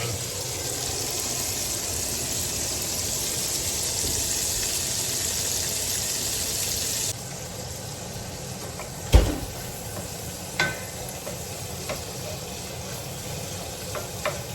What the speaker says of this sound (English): while the sausage is browning